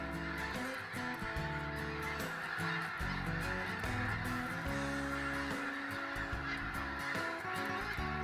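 A large flock of white-fronted, snow and Ross's geese honks continuously, a dense overlapping chorus of loud calls heard without pause.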